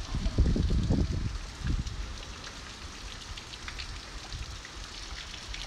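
Heavy hurricane rain from Hurricane Eta pours steadily in Fort Myers, Florida, a dense constant hiss with a louder rumbling burst near the start, likely from wind buffeting the microphone.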